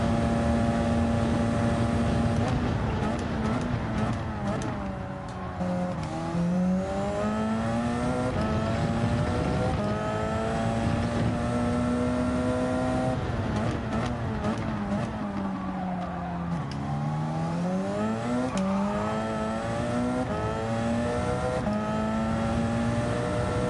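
A race car engine in a racing simulator game, revving loudly and continuously through rising and falling gear changes, with occasional tire squeal and no talking.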